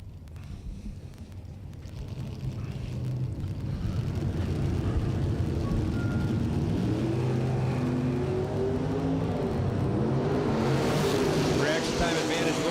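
At a bracket drag race, a Mopar Duster or Demon and a Camaro launch, their engines swelling from a faint idle into a loud, sustained roar that grows nearer and stays heavy.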